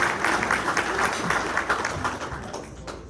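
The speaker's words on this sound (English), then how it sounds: "Let's give her a round of applause" A crowd at a county community event in Corona applauds warmly, a steady round of clapping that slowly thins out toward the end.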